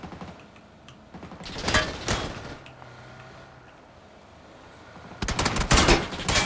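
Gunfire bursts in a PUBG battle: rapid, loud volleys of crackling shots, a cluster in the middle and another sustained burst near the end, separated by quieter game ambience.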